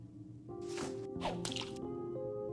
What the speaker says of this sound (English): Hello, tree. Would you like a water balloon?